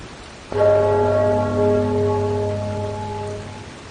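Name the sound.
bell ringing in the video game Enderal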